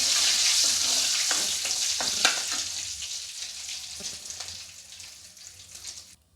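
Whole spices (bay leaf, cardamom, cloves and a small piece of cinnamon) sizzle in hot oil for cauliflower gravy, a bright steady fry with a few faint clinks and stirring taps, slowly settling quieter.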